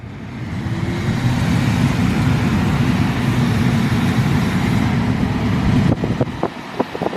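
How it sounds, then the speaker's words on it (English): A Tesla Model 3's cabin air conditioner running, a steady broad whoosh of the blower fan filling the car interior, continuous and fairly loud, ending in a few clicks and knocks near the close, with no talking. "Air conditioner on."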